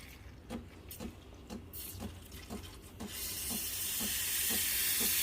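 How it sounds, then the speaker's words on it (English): Steam wand on a Breville Barista Pro espresso machine purging, a loud steady hiss that swells and holds for the last two seconds after a quieter stretch with faint rhythmic ticks. "make sure you purge your steam wand"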